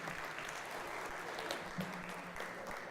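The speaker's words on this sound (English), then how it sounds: "A hand of applause, guys." Steady audience applause at a cybersecurity conference talk, a dense crowd of clapping hands with a few cheers, holding even and loud for the whole stretch.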